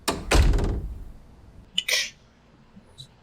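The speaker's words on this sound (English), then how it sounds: "It was the sound of the door closing." A door closing in a hallway after leaving a room: a heavy thud followed by a sharper latch click and a faint later tap, close and otherwise quiet.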